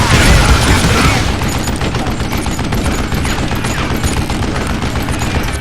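Gunfire rattles in Call of Juarez: Gunslinger as a loud, dense burst of rapid shots and booms, strongest in the first second and then continuing steadily.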